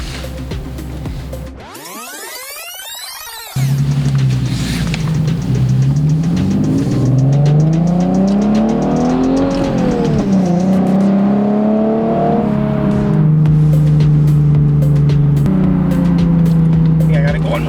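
A Nissan Z car's engine revs and pulls loudly from inside the cabin, climbing and falling through gear changes with a steady drone between, while people talk over it.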